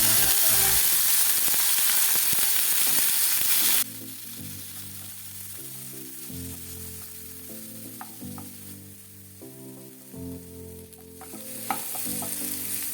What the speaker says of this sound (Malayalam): ഇനി ഉള്ളി ചതച്ചതും വേപ്പിലയും കൂടി ഇട്ട് കൊടുക്കാം